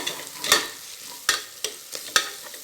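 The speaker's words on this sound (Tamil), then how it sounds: "ஓரளவுக்கு முட்டை நல்லா ஃப்ரை ஆனதும்" Eggs frying for egg biryani, a soft steady sizzle broken by about five sharp spatula scrapes and taps against the pan, close and clear.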